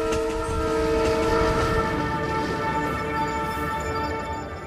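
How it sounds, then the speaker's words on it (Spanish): A train running on a Bolivian railway line, one of the world's most extreme, sounds its horn in a steady, loud sustained chord with rolling wheel noise beneath, no voices. "Son los trenes más extremos del mundo."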